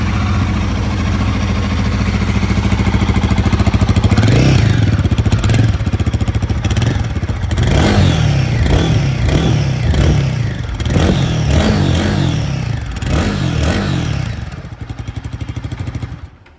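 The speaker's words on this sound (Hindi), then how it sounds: "अभी जस्ट आपने इस गाड़ी का एग्जॉस्ट साउंड को सुना" A 2024 Royal Enfield Guerrilla 450 motorcycle exhaust idles with a thumping, steady pulse, then revs repeatedly in sharp bursts before settling, loud and close with no talking.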